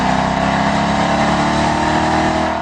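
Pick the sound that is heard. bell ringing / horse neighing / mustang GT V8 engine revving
mustang GT V8 engine revving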